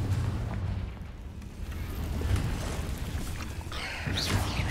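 A Confringo blasting spell explodes inside a cave in Hogwarts Legacy, a loud, dense, rumbling boom that continues without talk and ends in a bright crackling burst.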